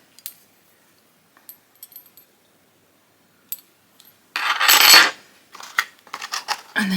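Small metal key charms from a spell kit clinking together, a few faint taps early on, then a louder bright jingle and several sharp metallic clinks up close.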